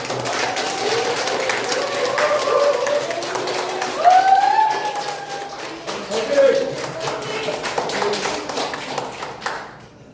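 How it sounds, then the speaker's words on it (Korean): Party members at a Chungnam provincial office meeting clap steadily to welcome Cho Kyoung-tae, a party leader candidate. Dense applause continues throughout with some voices mixed in, and it fades out at the end. "힘찬 박수로 환영해 주시기 바랍니다"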